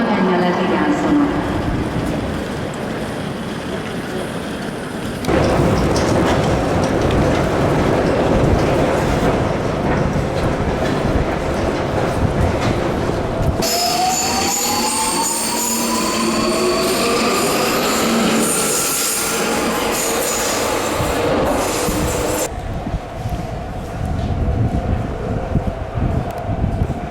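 Budapest metro train running, loud rumbling wheels on track with rising squeals and clattering, then a shift in tone as the ride continues, with some talk.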